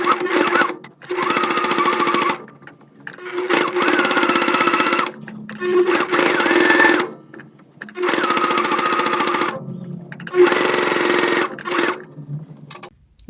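Several bursts of a sewing machine stitching a women's V-neck dress shirt, each loud steady run lasting a couple of seconds and separated by short pauses.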